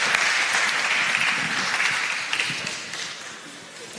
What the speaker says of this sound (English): Happy round of applause.